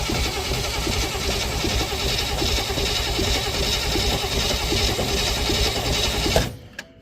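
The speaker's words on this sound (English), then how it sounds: "we have crankage" An old Willys jeep engine, left sitting for many years, cranks steadily on a power probe hooked to the battery, a loud continuous churning starter whir that stops abruptly near the end.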